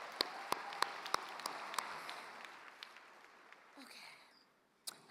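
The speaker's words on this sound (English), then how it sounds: "Let's give another round of applause for that video." Audience applause at the Rainier Scholars 25th anniversary celebration, a spread of claps that starts fairly full and thins out over a few seconds, with scattered sharp individual claps near the end.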